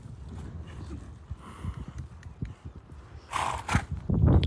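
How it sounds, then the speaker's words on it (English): Young Bashkir Curly and Foundation Quarter Horse cross moving on foot, hooves clip-clopping in an uneven rhythm close by, with a louder scuffle and rustle near the end. "This is a really fantastic young horse"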